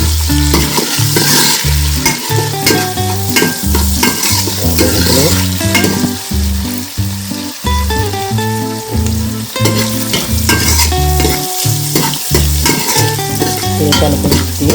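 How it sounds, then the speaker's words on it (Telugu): Onion and green chili pieces frying in oil for a Konaseema-style crab curry, a loud, close, continuous sizzle with repeated stirring scrapes of a utensil in the pan, no talking. "ఫస్ట్ ఉల్లిపాయ ముక్కలు, పచ్చిమిరపకాయ ముక్కలు, నూనెలో వేసుకోవాలి."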